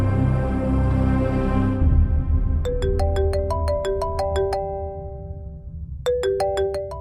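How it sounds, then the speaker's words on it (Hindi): A phone rings with a bright, repeating electronic melody that enters after a low rumble, plays a run of rising tones, pauses briefly, then starts again. "किसका फोन है?"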